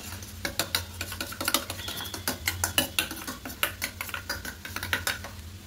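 A utensil scraping and clinking against a pan while Maggi noodles are mixed with soy and chili sauce, rapid irregular metallic taps and scrapes repeating close by with a faint sizzle underneath.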